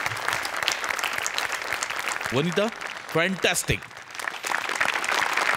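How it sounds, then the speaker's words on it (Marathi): Studio audience applause for a comedy act on a Marathi sketch-comedy stage show, steady clapping throughout, with a voice briefly speaking over it in the middle. "ऋषिकांत राऊतसाठी स्पेशल टाळ्या व्हायला पाहिजे"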